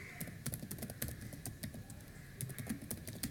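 An email address being typed on a computer keyboard, with quick close-up clicks coming in bursts and a short pause in the middle before the tapping resumes.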